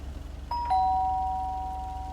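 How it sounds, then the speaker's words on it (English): A doorbell at a house's front door rings with two bright chime tones in quick succession, the second ringing on and slowly fading, close and clear over a low steady hum. "Do I ring the bell?"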